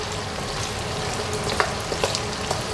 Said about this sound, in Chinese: 小圆葱啊，我们先加入1/3，先小火炒制。